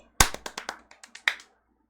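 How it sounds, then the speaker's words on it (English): A handful of sharp, close claps come in an uneven burst of about eight, fading quickly into silence with no voices over them. "everybody clap for them because they just figured it out"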